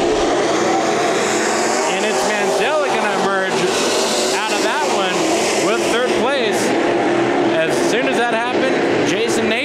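Race cars roar in a loud, continuous pack during a heat race at Bakersfield Speedway, engines sweeping up and down in pitch as cars pass, with an announcer talking over the noise throughout.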